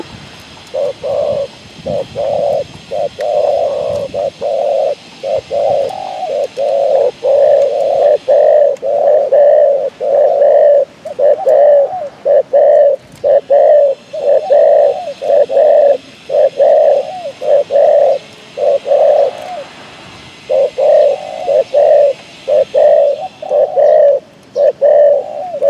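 A tamed wild spotted dove coos in a long run of loud, close, rhythmic calls, each phrase repeated in quick succession with a brief pause near the end, nothing else competing.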